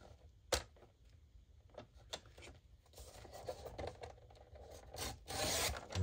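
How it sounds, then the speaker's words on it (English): Scissors cutting down a cellophane bag, with crisp plastic rustles, crinkles and irregular snips, some sharp, building to a louder crackling stretch near the end. "I'm going to cut this down at least a half an inch."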